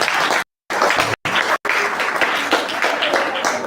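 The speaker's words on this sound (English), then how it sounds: "A round of applause for the school houses." Students and guests at a school inter-house quiz and debate applaud for the school houses, a loud crowd of clapping broken by brief cut-outs, then continuing steadily to the end.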